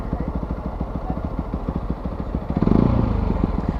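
A Fantic Caballero 125 flat-track motorcycle's single-cylinder engine drones with a steady pulsing beat, then swells louder as it accelerates near the end, close up and with no talk.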